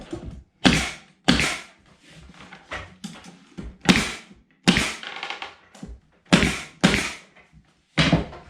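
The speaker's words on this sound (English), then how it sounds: "So I'm using 2-inch staples" A pneumatic stapler drives 2-inch staples into a wooden storage pallet, with about ten sharp, loud bangs at irregular intervals close by, and handling thumps between them.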